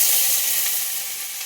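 Mustard seeds spluttering in hot oil in a pan, a dense, bright crackling sizzle, loud and close and fading slightly, with no voices.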